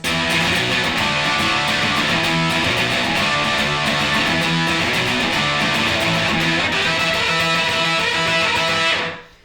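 A fuzzy, distorted electric guitar with a solid-state punk rock tone plays sustained chords, buzzy and compressed, steady and loud for several seconds before cutting off.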